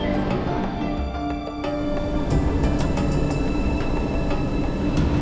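An MRT-3 metro train on EDSA in Metro Manila rumbles steadily nearby, with rhythmic clicks and rattles of wheels on track and a faint whine over the roar.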